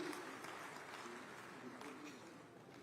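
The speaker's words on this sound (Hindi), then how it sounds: "सबके लिए एक बार जोर से ताली बजा के करें।" An audience applauds at a solar subsidy event in Chhattisgarh, part of the state's 25th-anniversary silver jubilee celebration. The applause is steady and faint, sounding distant and evenly sustained throughout, with no separate voices standing out.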